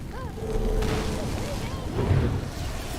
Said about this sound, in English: at least there is a lot of explosions